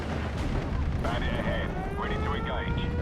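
A flak 88 gun fires at a Spitfire in the Steel Division: Normandy 44 battle, a dense, continuous rumble of heavy booms with a steady whining engine tone rising in over the barrage.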